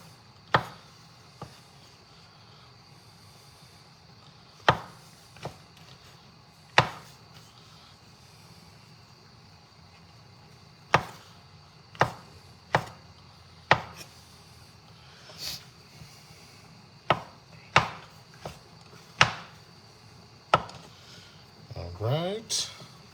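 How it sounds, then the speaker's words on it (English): A knife roughly slicing food on a cutting board in a home kitchen while pork medallions, mashed potatoes and garlic green beans are made, giving sharp, irregular chops spaced a second or two apart, close up, ending in a quick cluster of cuts. "Just slice them. A rough, like you were doing like a rough slice."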